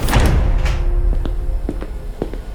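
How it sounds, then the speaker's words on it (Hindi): An operating theatre door in a hospital bursts open with a loud heavy thud, followed by a rumbling low wash and several sharp knocks and clicks fading afterward. "तभी ओटी का दरवाजा जोर की आवाज के साथ खुल गया"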